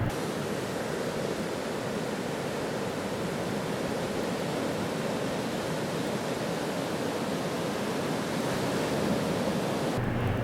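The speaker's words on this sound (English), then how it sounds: "A good wave is where it breaks over and then it just gradually breaks along until it gets to shore." Ocean waves break at the Pleasure Point reef break, a constant wash of surf roaring at moderate distance, with a faint gust of wind noise near the end and no voices.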